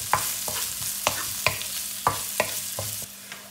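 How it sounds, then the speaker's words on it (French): Shrimp and peas frying in a pan for shrimp fried rice, a spatula striking and scraping the pan in repeated sharp knocks over a continuous low sizzle. "Puis je verse les crevettes et les petits pois. Je fais cuire l'ensemble encore quelques minutes."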